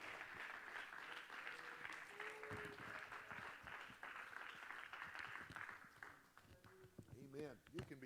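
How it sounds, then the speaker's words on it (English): Worshippers at a Pentecostal revival service clap their hands together in a sustained, fairly even patter, with voices singing or calling out over the clapping near the end. "would you clap your hands and just worship him tonight?"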